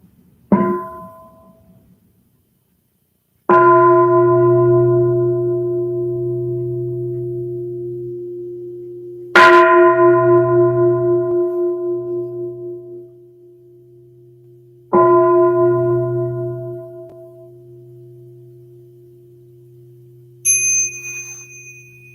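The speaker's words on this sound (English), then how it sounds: "let's just begin with 3 sounds of the bell" A meditation bell is struck three times at a slow, even pace, each ring sustaining a long, pure tone that decays before the next strike, with a short higher chime at the very end.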